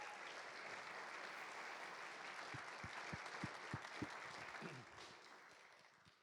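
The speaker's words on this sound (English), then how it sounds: "Can we give Miss Karen Hartnett a round of applause?" An audience at a handbell choir concert applauds steadily for several seconds, a dense patter of clapping in a hall that fades out at the end, fairly faint and distant.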